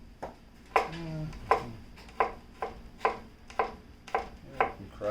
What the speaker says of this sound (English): So I'm going to cut the bawang first.